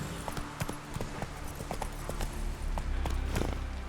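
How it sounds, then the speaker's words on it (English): Hooves of a horse clip-clop in an irregular walking rhythm in The Witcher 3, distinct thuds over soft ambient game background, with no talk. "Whoa there, Roach."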